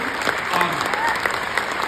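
An audience applauds at an alumni concert at Nauset, a steady wash of clapping that holds at an even level for the whole stretch, with no words spoken over it.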